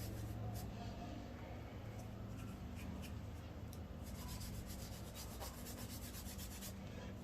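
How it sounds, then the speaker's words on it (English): Steady, soft rubbing as leather cream is worked onto the edges of a handmade leather watch strap, a continuous close-up friction sound with no talk. "So you rub it on the edges."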